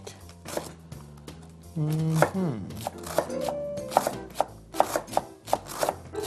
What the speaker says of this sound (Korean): 이렇게 실같이 쳐주세요.